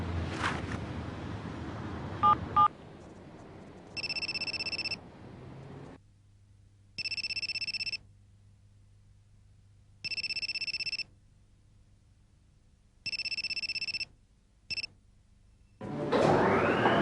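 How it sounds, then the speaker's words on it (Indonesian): Telephone ringing in an anime scene: after a few quick dial beeps, a repeating electronic ring tone sounds in evenly spaced bursts over a low hum, with no talking. "Gon, segera hubungi Kurapika"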